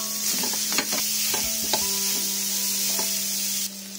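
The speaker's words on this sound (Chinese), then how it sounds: "然后下入酸豆角翻炒" Sour long beans stir-fry with minced meat in a hot wok, a steady loud sizzle broken by a few quick scraping strokes of the spatula, close up and alone.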